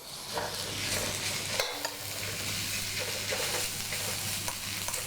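Glass noodles dropped into a hot pan for Indonesian stir-fry, a steady close sizzle with a soft thud as they land, followed by repeated light stirring scrapes and taps and no voices.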